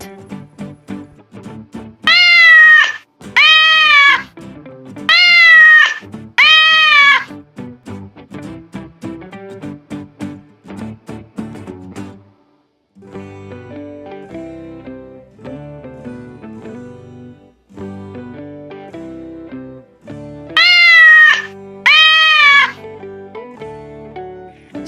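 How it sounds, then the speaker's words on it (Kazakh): A cat meows in short paired calls, loud and near, repeated several times over light background music. "кошка, cat."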